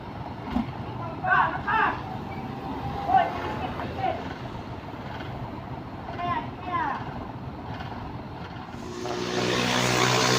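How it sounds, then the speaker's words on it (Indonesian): Heavy trucks, including a tanker truck and a trailer, pull away with a low engine rumble under intermittent talk, the engine growing louder and rougher toward the end. "Oke bosku, truk ini sudah melaju."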